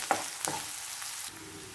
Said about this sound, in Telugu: చూడండి ఆనియన్స్ ఇలా వేగి వరకు ఉంచి